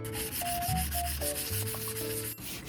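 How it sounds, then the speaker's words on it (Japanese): Hand sanding with 240-grit sandpaper before an iron-look paint finish on a DIY car table and storage shelf for a Nissan Caravan, a close continuous rubbing and scraping with irregular strokes and no talk. "240番のサンドペーパーで 荒削りし"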